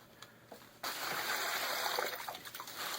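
Water is poured into a plastic-lined ring of oyster shells, a steady splashing trickle that begins abruptly and runs close and continuous to the end.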